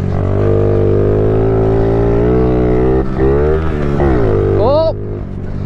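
A Honda CRF50 pit bike rides off-road, its small engine buzzing loudly and steadily with clear harmonic whine, revving up and down through gear shifts near the end.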